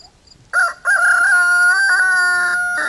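A rooster crows once, close and loud, a short break after a brief opening note and then a long sustained call that fades at the end, with a quiet outdoor background.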